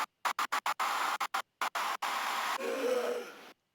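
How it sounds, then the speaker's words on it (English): Glitch-edited noisy audio chopped into rapid stuttering bursts with silent gaps, the cuts quickening before settling into a sustained hissy texture with a faint tonal wobble, then stopping abruptly. "And then the panning starts to pick up."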